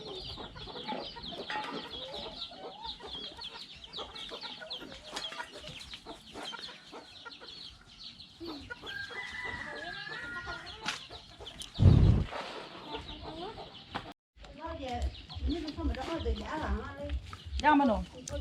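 Chickens cluck sporadically in a poultry yard behind a rural house in an Akha village, soft and somewhat distant beneath ongoing conversation, with a few louder bumps and rustles.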